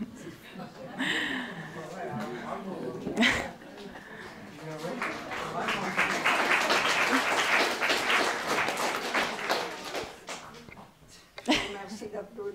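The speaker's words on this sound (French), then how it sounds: "Merci d'applaudir" An audience applauds warmly at a talk on artistic creation and old age, a sustained wash of clapping that swells and lingers for several seconds with voices and laughter mixed in.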